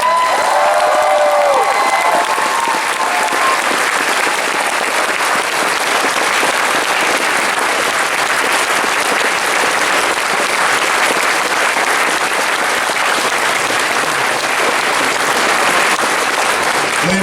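An audience at a convention closing ceremony keeps up loud, sustained applause with scattered cheers, a thick continuous roar of clapping that holds level for the whole stretch.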